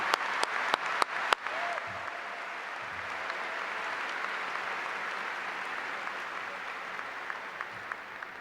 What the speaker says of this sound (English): please join me in a round of applause for our wonderful musicians who are here providing music